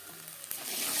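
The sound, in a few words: panch phoron spices frying in oil in a wok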